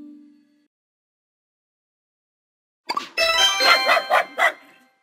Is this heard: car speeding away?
no